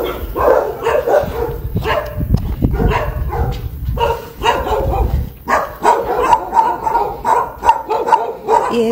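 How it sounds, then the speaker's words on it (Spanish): Several dogs bark and yip at an animal welfare unit in Zacapa, Guatemala, a steady run of loud, overlapping barks with some lower rumbling noise between them. "Ahí hay unos perritos."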